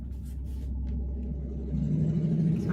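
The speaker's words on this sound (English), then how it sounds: "loud truck" A heavy truck rumbles past nearby, its low engine drone holding steady and then growing slightly louder toward the end.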